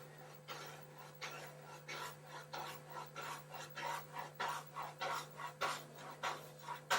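A paintbrush scrubs paint back and forth in quick regular strokes, a soft rhythmic rasping swish repeated about a dozen times over a low steady hum, faint and close, with no speech.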